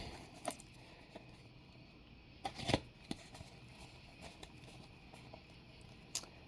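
Quiet papery slaps and soft shuffling as tarot cards are handled and set down one by one, with a few sharper taps.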